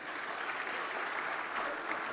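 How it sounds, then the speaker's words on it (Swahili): Applause from the audience at a shareholders' general meeting, a steady, fairly faint wash of clapping from a large hall with no distinct voices. "Makofi mengi sana."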